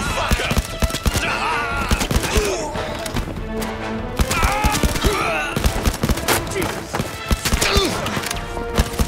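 Dense gunfire fills a close-range fight in the VR shooter game Blood and Truth, rapid shots and thuds mixed with shouting voices and busy game sound throughout.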